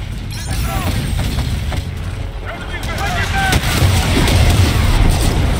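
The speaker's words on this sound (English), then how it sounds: "AA guns are engaging jackals." Anti-aircraft guns firing in the Call of Duty: Infinite Warfare campaign, Mars orbit mission, a dense continuous rumble of distant flak and mechanical noise that builds slightly louder toward the end, with no talk.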